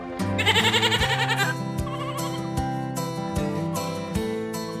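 A goat bleats loudly in a wavering, quavering cry, followed by several shorter bleats close to the listener.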